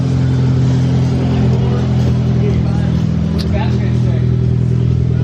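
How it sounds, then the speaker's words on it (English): A Mitsubishi Evo 10 engine fires up and runs, a steady low rumble holding near and loud with a slight revving rise partway through. "Evo 10 startup sounds good."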